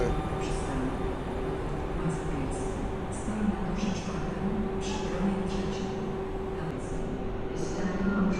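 A passenger train from Dęblin to Łowicz Główny pulls into Warszawa Centralna station, a steady rolling rumble with faint high squeals, while a voice speaks over the station noise.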